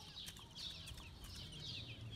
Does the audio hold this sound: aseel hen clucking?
yes